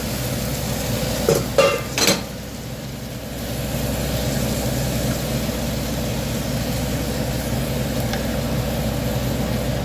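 Masala-coated chicken tipped into a hot pan, a few clattering knocks as it lands, then a steady close frying sizzle continuing alone.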